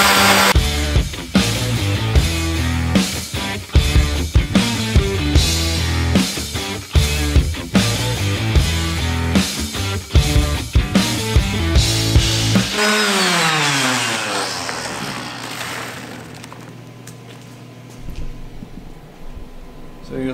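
Sander grinding dross off plasma-cut expanded metal, loud harsh grinding in bursts that rattle and stop about two-thirds through, then a winding-down whir.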